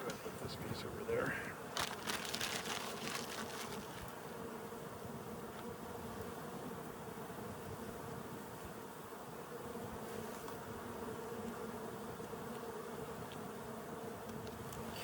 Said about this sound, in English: A lot of bees came down to this frame.